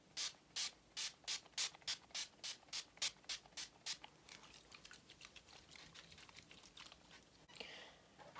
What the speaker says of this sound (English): I'm just going to be taking my Urban Decay setting spray.